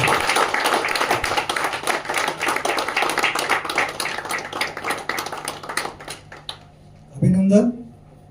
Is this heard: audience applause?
yes